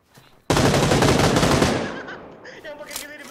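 Gunfire in the PUBG Lite video game: one loud, close burst of rapid automatic fire lasting over a second, then fading into an echoing tail with some faint background sounds.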